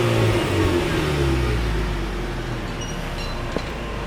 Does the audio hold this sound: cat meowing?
no